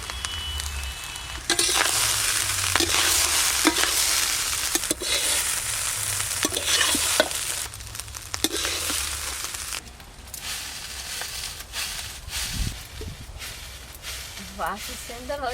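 Rice and lightly fried vegetables for egg rice are stir-fried in a hot pan, giving a loud, steady sizzle with scraping and stirring strokes throughout, and a voice talks over it at times.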